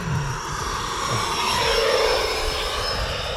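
E-flite F-16 Falcon 80mm EDF RC jet lining up to land, a steady loud ducted-fan whine and rushing roar that holds throughout without a break.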